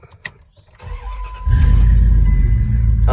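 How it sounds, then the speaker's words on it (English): A truck engine cranks after a few faint clicks and catches, jumping to a loud, steady rumbling idle close by, with a brief whir near the end. "I'm actually going to go ahead and fire the truck up."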